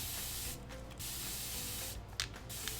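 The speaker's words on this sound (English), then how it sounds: "hose it down with some water" Water hosed onto a wood flower coated in paste, a continuous near hissing spray with a few brief breaks and soft splashes.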